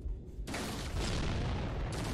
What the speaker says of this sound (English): Throwing a grenade over.